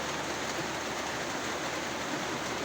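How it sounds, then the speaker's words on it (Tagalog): Heavy rain pouring steadily at a house, a dense unbroken hiss of water falling on surfaces, loud and even with no voices. "lalong lumalakas yung ulan guys"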